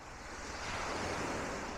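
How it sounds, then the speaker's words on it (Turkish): Sea waves wash onto the long pebbly shore at Cide beach on the Turkish coast, a steady rushing surf with some wind buffeting the microphone, no voices. "Sonuçta sahil yani, deniz."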